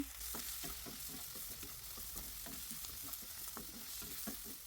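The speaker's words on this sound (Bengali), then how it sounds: "একটু ভাজা ভাজা করে নিব" Coriander leaves frying with salt in a wok for a spicy coriander-leaf bhorta, a steady close sizzle broken by repeated scraping stir strokes, no voices.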